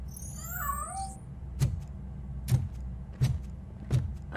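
A cat meows in the video game RoboCop: Rogue City with a few rising, wavering cries at the start, followed by several evenly spaced heavy thuds over a low game ambience.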